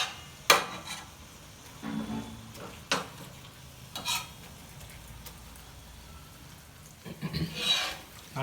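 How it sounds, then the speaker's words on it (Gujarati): A spoon scrapes and clinks against a pan every second or so while a Surti gotalo cooks, with a soft sizzle underneath and a voice talking faintly. "આને આપણે આવી રીતે હલાવતા રહેવાનું જ્યાં સુધી પ્રોપર ચડી ના જાય."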